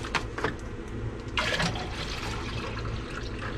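Ice water being poured into a glass with ice on an RV trip, a steady close liquid fill with brief splashy bursts near the start and around the middle, no talking.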